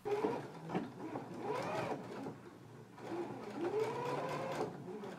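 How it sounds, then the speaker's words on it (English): A sewing machine stitches through all thicknesses along the front stitching line of a McCall's 7922 dress, with a close, continuous whirring run that swells and eases over several seconds. "going to take it to the machine, and I'm going to stitch right along that stitching line through all thicknesses"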